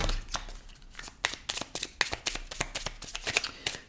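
Tarot cards are shuffled by hand for a reading, giving a close, quiet series of rapid riffling and slapping bursts in an uneven rhythm.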